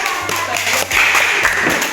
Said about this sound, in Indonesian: Oke, ya, tepuk tangan.